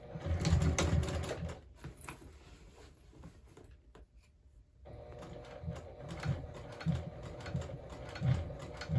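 A sewing machine top-stitches a crossbody bag in close, rattling runs, stopping for a quiet pause midway before starting again.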